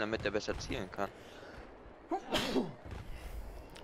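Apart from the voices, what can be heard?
sneeze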